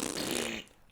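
A person imitates a fart noise with the mouth, a loud, raspy sputter lasting over half a second that trails off, followed by a short pop at the end.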